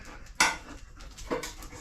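A big dog pants after a long game of fetch with a ball, two quick bursts of breathy panting close by, fairly quiet, with no talk over them.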